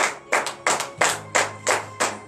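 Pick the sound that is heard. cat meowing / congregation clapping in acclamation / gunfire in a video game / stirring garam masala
congregation clapping in acclamation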